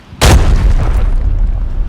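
A single loud, sharp boom followed by a rumbling decay, like a close explosion, in the video game Arena Breakout.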